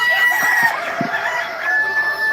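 A rooster crows among clucking chickens on a farm, the calls close and steady over a constant high background whine, with no talking.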